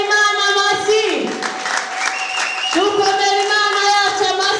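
A church congregation breaks into sustained applause, with a steady wash of clapping running under a loud voice and tuneful sounds throughout.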